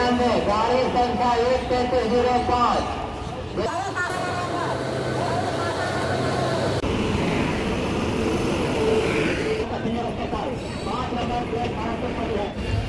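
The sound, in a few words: train departing station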